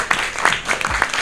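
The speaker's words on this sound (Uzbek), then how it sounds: "Qarsaklar bo'lsin." A studio audience at a book club quiz show claps in a short, dense burst of applause.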